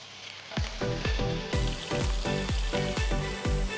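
Cumin seeds sizzle in a hot pan while a spoon stirs them in steady, rhythmic strokes, each scrape landing about twice a second over a continuous close-up frying hiss.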